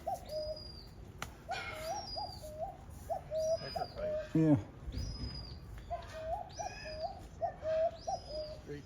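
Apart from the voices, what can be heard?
pigeons cooing and flapping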